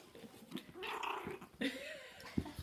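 A small dog growls in a low, rumbling run of short snarls and grumbles, close by and fairly soft, with faint background noise around it.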